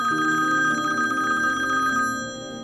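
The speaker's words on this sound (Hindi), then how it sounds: "किसका फोन आ गया?" A telephone rings steadily with an incoming call, its bright repeating trill sounding close and clear for about two seconds before it fades, with no one talking.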